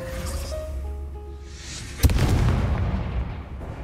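A single sharp explosion in a wizarding video game bursts out midway and rumbles on after a hum of game ambience.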